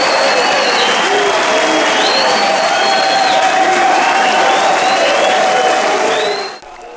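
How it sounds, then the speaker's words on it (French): Party members applauding at a general assembly of a new political party, a loud, dense, sustained clapping from a large crowd with scattered cheers, cutting off abruptly near the end. "Ces applaudissements sont ceux des membres d'Agathon Rwasa."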